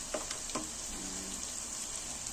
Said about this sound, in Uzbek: Yaxshilab qizartirib qovurib olamiz.